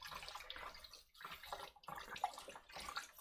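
Kale and vegetable tops rinsed under running tap water, a soft uneven splashing and trickling with brief gaps as the greens are moved.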